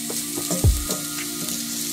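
Samosa filling fries gently in a pan over very low heat, a steady soft sizzle running throughout with a few faint clicks and a dull low knock partway through; no talking.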